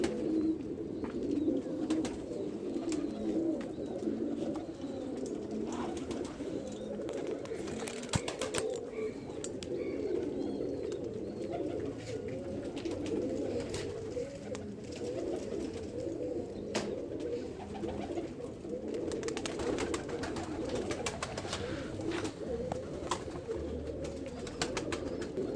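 Teddy pigeons coo softly and repeatedly in a continuous, overlapping chorus, with occasional wing flutters and small clicks. The sound is moderately distant and there is no talking.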